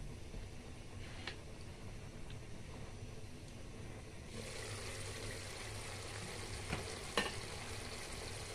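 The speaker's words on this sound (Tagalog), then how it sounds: "Tuloy-tuloy lang yung mga kuksang hanggang sa maluto yung gata natin at saka yung gulay." Tuna and vegetables simmer in coconut milk, giving a faint, continuous bubbling sizzle that grows slightly louder halfway through, with a brief clink near the end and no voices.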